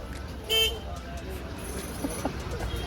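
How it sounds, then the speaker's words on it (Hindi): A single short, bright honk from a BMW G 310 RR motorcycle horn sounds once, close by, over faint background noise. "पहले हॉर्न चेक कर ले वो ज़रा।"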